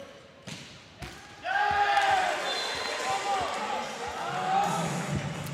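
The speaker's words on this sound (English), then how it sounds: "You can just hear that ball bouncing off that headline." Basketball striking the rim during a men's university cup final in an indoor arena, with a few sharp bounces standing out over steady crowd noise and sneaker squeaks.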